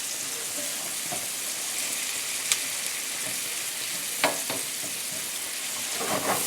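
Diced onion frying in a pan, a steady high hissing sizzle throughout with a few soft taps and stirs, close and even.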